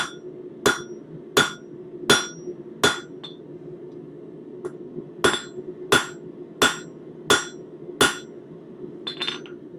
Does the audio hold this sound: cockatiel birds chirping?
no